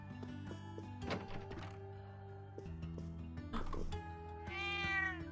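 A cat meowing in the video game Trails of Cold Steel 2, a clear close meow near the end over game background music, with a couple of soft thunks earlier.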